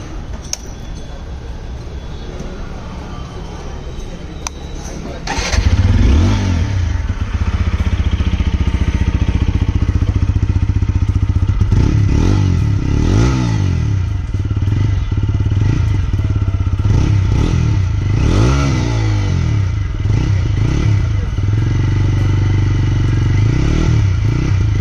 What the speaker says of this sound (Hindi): दोस्तों अब हम इस बाइक का एग्जॉस्ट साउंड सुनने वाले हैं